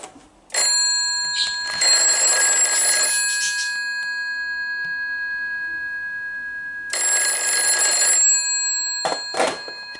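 A 1967 GPO 746 telephone bell rings in two long, loud metallic bursts separated by a quiet gap, followed by a couple of brief clangs at the end.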